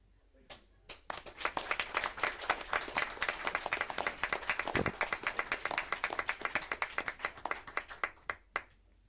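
Applause from the audience at a city council meeting, a steady patter of hand claps that thins near the end to scattered individual claps.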